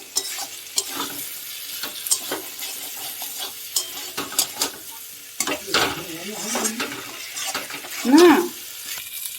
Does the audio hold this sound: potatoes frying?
yes